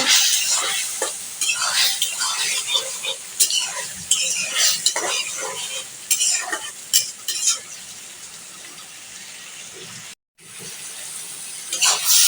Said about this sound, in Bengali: আমি একটু নাড়া দিয়ে দিচ্ছি